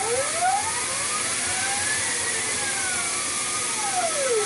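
A CNC mill cuts a 1/8-inch-deep slot in a clock pallet arm, giving a continuous high whine with sweeping pitch changes as the cutter moves along, steady and close with no talk.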